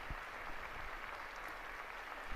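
A crowd of faithful and pilgrims applauds at the Wednesday papal general audience. The clapping is a steady, faint wash of many hands, heard from a distance.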